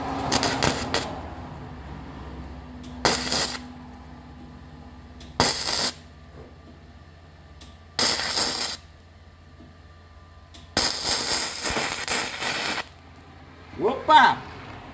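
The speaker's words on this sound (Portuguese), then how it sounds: "Deixa eu dar um pinguinho de solda aí, pera aí." Rusty scrap metal, being made into a trash bin, gets welded in short crackling bursts, about six spaced bursts of harsh buzzing separated by quiet pauses, with a voice in the background.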